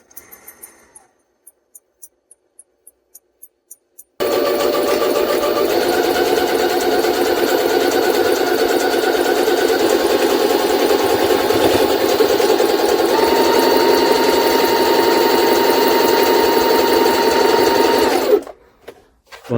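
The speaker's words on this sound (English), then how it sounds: "We'll turn on the zigzag stitch here now." After a few soft clicks, a Jaguar SJ-23 sewing machine starts up and sews a zigzag stitch, giving a loud, steady, close mechanical whir that runs unbroken for about fourteen seconds before stopping abruptly.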